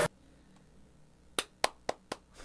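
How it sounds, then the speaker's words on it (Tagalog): Four sharp, separate hand claps sound close and fairly loud in an otherwise quiet space, following one earlier clap, spaced about a quarter second apart. "Pumalakpak din no."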